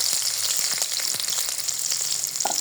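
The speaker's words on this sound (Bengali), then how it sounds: "পেঁয়াজ আর কাঁচামরিচ দিয়ে দিলাম, সুন্দর করে নেড়ে চেড়ে নিচ্ছি" Onions and green chillies sizzle in hot oil with cumin, mustard seeds and peanuts, a steady, close hiss punctuated by small crackles and pops throughout.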